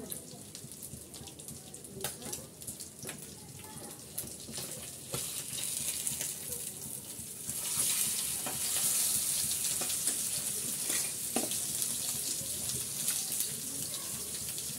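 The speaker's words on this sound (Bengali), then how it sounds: "কিছুটা বরবটি আমি কুচি করে কেটে রেখেছি, সেই বরবটিটা আমি এখানে তেলের ভিতর দিয়ে দিলাম।" Chopped long beans frying in hot oil in a wok while cooking fried rice, a continuous crackling sizzle with stirring scrapes that grows louder partway through, close.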